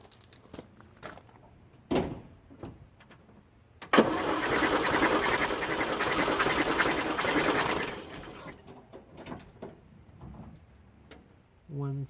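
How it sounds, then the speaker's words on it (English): Series IIA Land Rover engine cranking on the starter for a compression test with the throttle held wide open, a steady loud churning run of about four seconds after a few clicks and thumps, with brief low talk around it. "I'm going to push the gas pedal down all the way to the floor and crank it 4 or 5 times"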